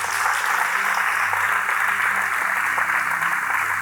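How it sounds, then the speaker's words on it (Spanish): A congregation at a church service applauding in praise of the Lord, a loud, continuous wash of clapping with a steady low hum underneath. "Bríndele un fuerte aplauso al Señor."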